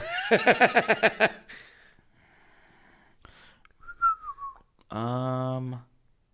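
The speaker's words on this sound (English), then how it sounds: "I can't believe I just whistled" A person whistles a short rising-and-falling tune, then a snort and breathy sounds, ending with a long held whistled note.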